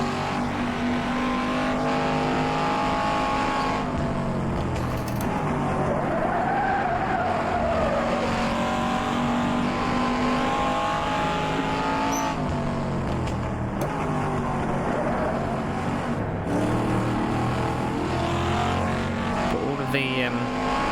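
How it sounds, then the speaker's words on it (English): GT race cars lap Brands Hatch in a racing video game. Engines drone and rev continuously, and tires squeal and skid repeatedly. Someone talks over the game sound. "I could hear the cars all the way over the other side of the circuit."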